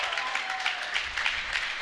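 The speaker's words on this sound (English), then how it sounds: "Finally some good excitement from the crowd, though." Crowd at an archery shootdown applauding, a sustained even patter of many hands with a faint whistle early on, moderately loud and steady throughout.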